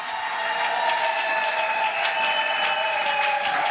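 Women at a church convention applaud together in a dense, sustained burst of clapping that holds steady throughout, with no talk over it.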